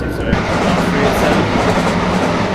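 HST train passing in Train Simulator 2018, a loud steady rumble of wheels and engine with faint rhythmic rail clatter, close and continuous, with a brief voice at the start.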